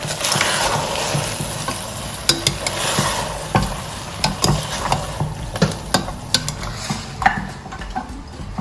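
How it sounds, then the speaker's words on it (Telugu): Mixed chicken pieces sauté in a hot pan for Chettinad chicken curry, a steady sizzle with repeated close spatula clacks and scrapes, no voices. "కాసేపు ఇవి సాటే చేయాలన్నమాట ఫ్రై చేసుకోవాలి మేబీ ఒక టూ మినిట్స్ మంచిగా ఫ్రై చేసుకున్నా"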